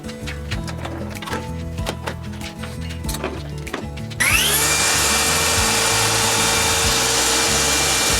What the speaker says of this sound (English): I can clamp that down to this and run it through the table saw and get a nice straight edge